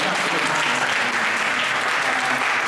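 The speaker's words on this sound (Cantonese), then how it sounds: "反方嗰拍掌都好大聲" Steady, dense audience applause at a university inter-hall debate in a hall, loud and sustained throughout with no break.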